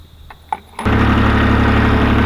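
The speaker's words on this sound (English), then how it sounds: "once you get the tractor running" A Ventrac MS720 SD tractor engine cranks after a couple of faint clicks, catches and settles into a loud, steady running drone close by, with no voices.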